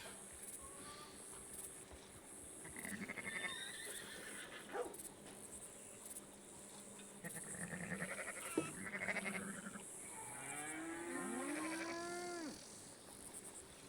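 Cattle low in the open-world Western game Red Dead Redemption 2, several drawn-out moos and bellows at moderate distance over a steady outdoor ambience.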